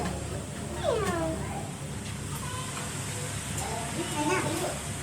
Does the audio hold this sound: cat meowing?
yes